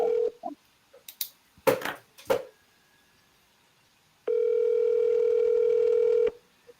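A phone call placed by voice command, with a few short dialing beeps and clicks followed by one steady two-second ringback tone, heard close and clear with no talking.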